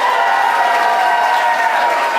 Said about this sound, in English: Can you guys give me applause?